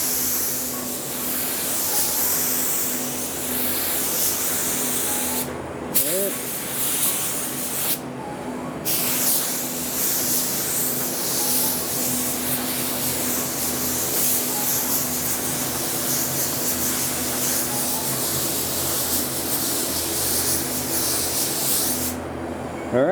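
A Fujispray V8 spray gun applies a single coat of paint to a car's rear bumper, giving a loud, close, continuous airy hiss with a steady turbine whine beneath and a few brief breaks when the trigger is released.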